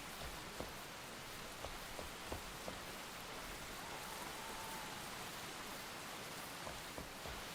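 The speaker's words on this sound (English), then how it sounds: "Rain." Steady rain in the video game Enshrouded, a quiet, even hiss with scattered sharp drop ticks throughout and no voices.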